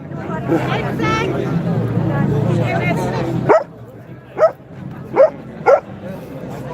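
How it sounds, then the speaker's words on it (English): Dogs bark repeatedly at a street gathering in Cork, several sharp, fairly close barks and yips over crowd chatter and talking at first, then four distinct barks spaced apart against quieter background noise. "Those doggies, this is brilliant."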